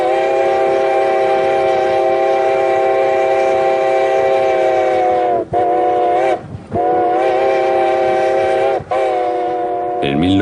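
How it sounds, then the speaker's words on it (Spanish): A loud, long locomotive whistle blares steadily at a level crossing, breaks off briefly, then sounds again in sustained blasts, close and dominant. "Ante un paso a nivel, oiréis dos silbidos largos."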